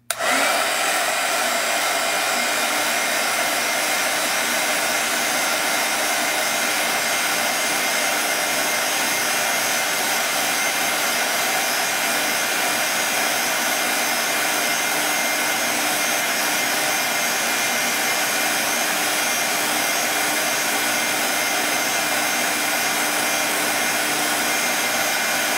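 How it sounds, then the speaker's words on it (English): A hair dryer blowing on a layer of paint, a loud, constant whooshing roar that runs unbroken for the whole stretch with no voices over it. "I'm going to dry this layer."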